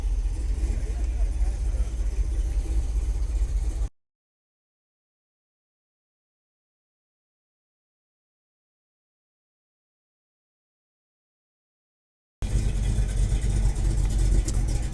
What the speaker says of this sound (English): And here's a nice Monte Carlo SS coming through here as well.